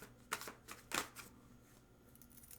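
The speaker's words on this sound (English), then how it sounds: "we're going to go ahead and one more shuffle" Tarot cards are shuffled close up in a couple of quick riffling bursts, followed by soft light rustling and handling.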